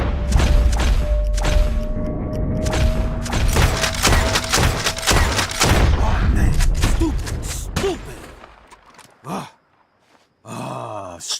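Gunfire in the dinosaur survival shooter game I Am Dinosaur 3: loud, rapid overlapping shots and booms fill most of the clip, with groans and raised voices mixed in, then it thins to a few isolated sounds near the end.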